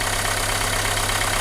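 A Renault Megane 2 car engine idles steadily with the bonnet open, a continuous low hum and mid-range mechanical drone with slight roughness and no voices.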